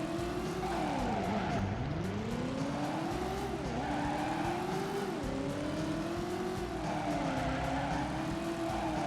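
A Toyota Supra races in a retro racing video game, its engine droning continuously and sweeping up and down in pitch through gear changes, with occasional tire squeals, at moderate volume and without speech.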